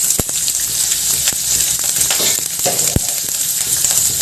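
Green chillies hit hot oil alongside mustard seeds and dried red chillies in a tempering for fenugreek rasam, producing a loud, continuous hiss and sizzle dotted with crisp pops.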